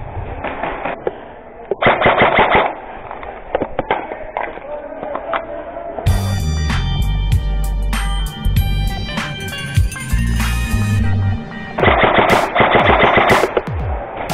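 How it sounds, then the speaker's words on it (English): Airsoft guns fire during close-quarters CQB gameplay, with rapid bursts of sharp snapping shots in several rounds, some close and loud, broken by pauses and mixed with players talking. "Don't stop shooting, by the way."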